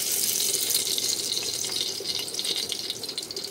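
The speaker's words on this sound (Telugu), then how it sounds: "ఆయిల్ వేసేసుకుందాము." Cooking oil poured into a pan for chicken leg piece biryani, a steady close hiss and rush of liquid running continuously throughout, without talk.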